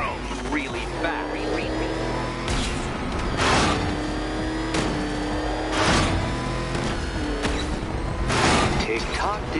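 The Batmobile's engine in Batman: Arkham Knight revs in repeated loud surges over a steady mechanical drone, roughly every couple of seconds, with game speech layered over it.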